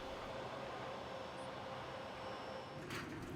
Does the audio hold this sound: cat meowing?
no